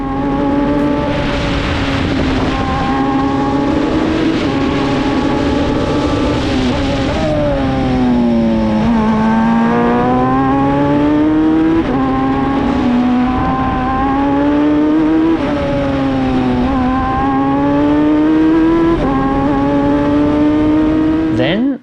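A car on a push lap around a race track, its engine loud and close as it repeatedly climbs through the revs and drops on each gear change, with a voice speaking over the engine.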